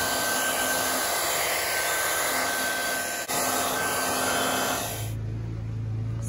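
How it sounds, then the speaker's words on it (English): Hairdryer blowing steadily on the creases of a glass tarp, a continuous loud airy whine with a hum that drops in tone near the end as the airflow changes, alone with no talk. "I'm just going to show you how I'm going to get these creases out"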